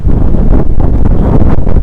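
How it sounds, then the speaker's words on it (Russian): Strong storm wind buffets the microphone outdoors, a loud, continuous roaring rumble with gusty surges and no pauses. "Очень дует сегодня ветер."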